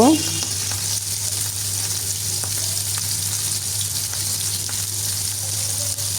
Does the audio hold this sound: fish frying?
yes